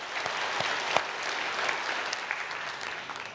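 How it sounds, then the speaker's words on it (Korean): Congregation clapping for a church choir at a prayer retreat service, a steady, even wash of applause from many people throughout. "우리 감사 박수 한번 드리고요"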